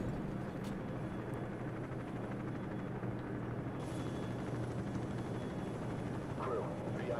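Steady rotor drone of a helicopter in the video game Call of Duty 4: Modern Warfare, with a low thumping hum, continuous and fairly loud, with faint voices mixed underneath.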